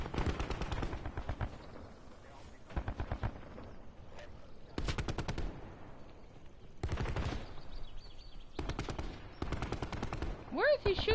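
Loud machine-gun bursts in a shooter video game, several sharp rapid volleys separated by short pauses, with a voice talking faintly between them.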